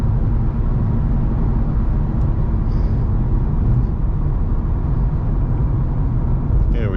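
A Mazda RX8 driven in second gear fills the cabin with a steady, loud engine drone and road rumble that holds even throughout, with no clear rise in pitch.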